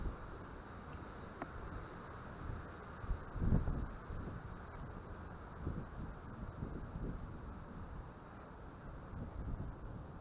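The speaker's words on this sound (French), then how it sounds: "Toujours du vent." Steady wind buffeting a microphone outdoors while drop-shot fishing, a low rumbling gust that swells briefly and then settles into a constant rushing noise.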